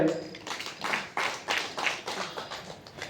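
An audience at a stage event applauds a guest being welcomed. The clapping is a ragged, moderately loud run of claps with rhythmic swells.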